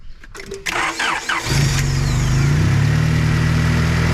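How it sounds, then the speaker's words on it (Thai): A 1995 Honda Prelude engine cranks with a starter whir, catches after about a second and a half, and settles into a steady, loud, close idle with no talking. "เดี๋ยวฟังเสียงเครื่องนะครับ"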